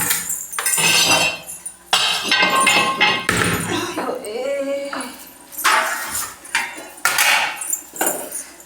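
Dishes, pots and utensils clink and clatter in a home kitchen as they are set out while tea brews, with bright metallic knocks in several bursts and someone talking over them.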